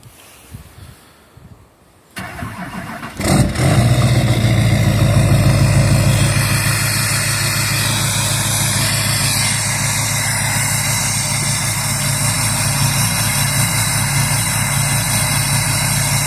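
A 2008 Duramax LMM diesel pickup with 150,000 miles, a 5-inch exhaust and an S&B intake cranks after sitting overnight, catches loudly, then settles into a steady, rumbling cold idle.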